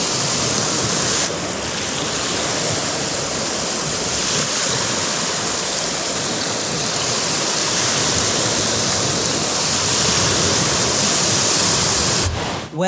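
Water laps and washes at the shore of Lake Baikal in a loud, continuous rush of broadband noise, close by and unbroken, with a brief disturbance at the very end.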